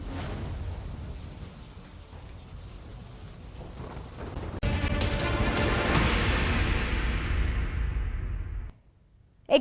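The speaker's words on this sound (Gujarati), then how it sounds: "ગીર સોમનાથમાં પણ વરસાદ થઈ રહ્યો છે" Rain falls in Gir Somnath as a broad, steady wash that swells noticeably louder partway through, then cuts off abruptly near the end, followed by a brief thump.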